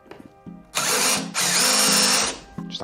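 Power drill pre-drilling holes in a wooden workbench top, two loud sustained whining bursts separated by a short pause, with quieter handling clatter before and after.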